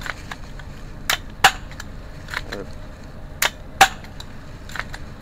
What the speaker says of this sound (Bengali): এটা হচ্ছে এইভাবে শুট করতে হবে, লোড করে। আচ্ছা, ফায়ার করতে হবে।